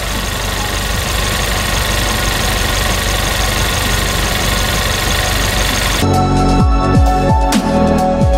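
An Audi A1 engine idles with a steady, loud mechanical drone, then the tone shifts near the end with a few rhythmic pulses.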